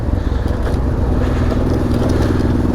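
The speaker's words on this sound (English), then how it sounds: "DB killer for the Dominator, so can get some true V-twin sound." A Honda Transalp XL600V V-twin motorcycle runs with its dB killer removed, giving a steady, loud, close rumbling engine drone with a gritty crackle throughout and no pause.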